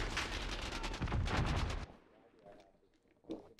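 A burst of heavy, booming gunfire from the Origin 12 shotgun in Call of Duty Modern Warfare, loud and dense for nearly two seconds, then fading into quieter scattered game noise with one later sharp hit.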